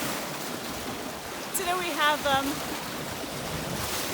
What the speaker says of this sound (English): as you can see, the waves are coming up